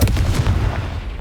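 A Confringo blasting spell explodes in Hogwarts Legacy, one loud, close, booming burst with a heavy low rumble that decays quickly.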